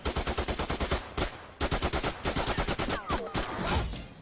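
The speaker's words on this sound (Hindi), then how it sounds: "शाम के वक्त ताबड़तोड़ गोलियां चली।" Rapid automatic gunfire at a steel gate in Dhanbad in the evening, long bursts of sharp crackling shots in quick succession with brief pauses between volleys, loud and harsh, with no talking.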